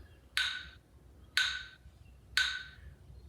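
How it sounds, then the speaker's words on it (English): A metronome app set to 60 beats per minute in six-beat bars, giving three evenly spaced sharp clicks one second apart, each with a short ringing decay, over faint background hiss. "it's going to sound like this"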